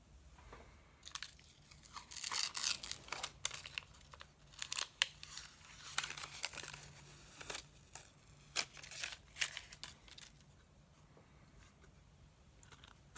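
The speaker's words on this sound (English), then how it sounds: "Let's get this paper off the back of it. This is a protective film." Protective paper film being peeled and torn off the back of an acrylic dinosaur panel for a kids' 3D night light, close and crinkly, in a run of sharp ripping and crackling bursts that fade near the end.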